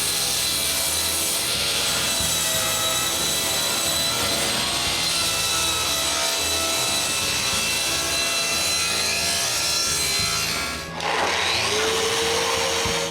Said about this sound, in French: Avec la lame penchée, je recoupe les 4 morceaux à cet angle.